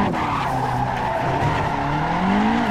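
Tires screeching continuously as a Nissan S13 drift car spins a donut in the Assetto Corsa racing game, a loud, sustained squeal with rising and falling pitch over engine noise.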